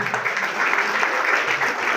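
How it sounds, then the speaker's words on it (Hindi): Loud, steady applause from an audience at a community student-felicitation event, dense clapping filling the whole moment without letup. "जोरदार तालियां"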